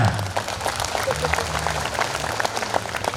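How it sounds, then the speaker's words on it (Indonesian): Applause from an audience at a gathering for village and district early-childhood education (PAUD) leaders in Malang Regency, a steady dense patter of clapping that blends with a voice talking over it. "Tepuk tangannya mana?"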